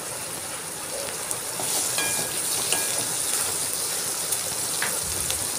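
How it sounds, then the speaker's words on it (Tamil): Chopped tomatoes and onions sauté together in a pan for a roadside-style salna, producing a steady broad hiss with a few light clicks from stirring and no voices. "தக்காளியும் சேர்த்து இந்த வெங்காயத்தோடு நல்லா வதக்கி விடுங்க. இந்த மாதிரி நல்லாவே வதக்கணும்."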